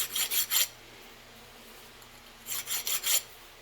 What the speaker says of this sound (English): give them a few more licks with the file, clean off those burrs